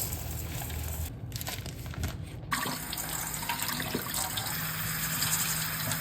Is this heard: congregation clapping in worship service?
no